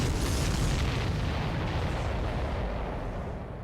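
Explosion in the combat flight game Ace Combat 7: Skies Unknown, a loud, broad rumbling blast that sustains and slowly fades over a few seconds.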